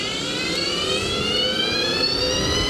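A Ristretto 512 e-bike in race mode at level 3 power pulls away on throttle alone, its electric motor whine climbing steadily in pitch over a constant loud rush of wind and road noise, with no talking.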